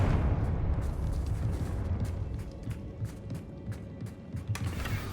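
A Confringo blasting spell explodes in the Hogwarts Legacy video game. A loud, sustained rumbling roar is broken by repeated crackling pops and bursts, and no voices are heard.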